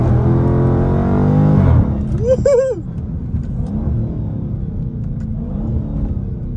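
A Dodge Charger Daytona 392 V8 rumbles, then blips its revs on a downshift. The engine note rises and falls in a quick burst before settling back to a steady, loud idle-like drone, heard close up.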